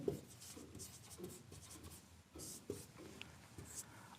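Pen scratching on paper while writing numbers by hand, quiet and close, with short strokes and brief pauses between them.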